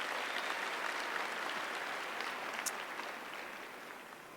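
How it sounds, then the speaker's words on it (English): An audience at a North Carolina A&T State University fall commencement ceremony claps in a dense, sustained round of applause that gradually thins and fades toward the end. "Let's give them a round of applause"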